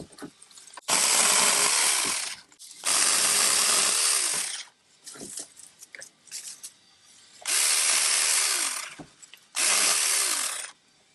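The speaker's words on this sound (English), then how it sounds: "So now let's cut some of these bigger ones." ORBLON 6-inch brushless cordless chainsaw cutting through wood branches, four loud close bursts of buzzing cuts with quieter handling and motor blips between them.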